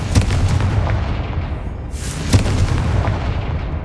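Bombarda and Confringo spells blast in the Hogwarts Legacy video game. Deep, loud booming explosions roll over a dense, rumbling background, with a sharper burst about halfway through.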